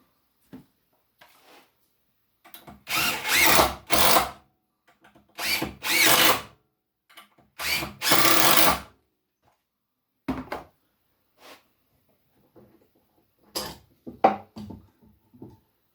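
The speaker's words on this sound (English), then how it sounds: "I'm going to just start those holes a little bit." A power drill starts screw holes in wood for a shaving horse in several short bursts, each spinning up to a whining buzz and stopping, with quiet gaps and small knocks between them, heard close.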